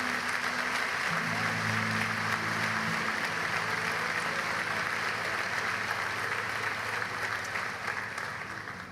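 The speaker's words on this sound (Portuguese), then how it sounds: "Dê um aplauso a Jesus." A congregation in a church service applauds during a sermon, broad sustained clapping that holds steady for several seconds, with a low held tone early on, then eases off near the end.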